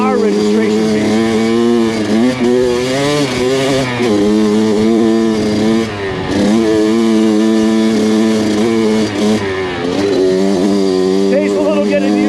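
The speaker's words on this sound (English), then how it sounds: "Takes a little getting used to on the KX, obviously. It's a two-stroke." Kawasaki KX100 two-stroke dirt bike ridden in the hills, its engine buzzing steadily and close with rising and falling revs and brief dips, while someone talks over it.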